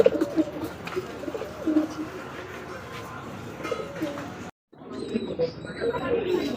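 Pigeons coo repeatedly up close among pairs of pigeons for sale, including black ones, with a busy background murmur and a brief break partway through.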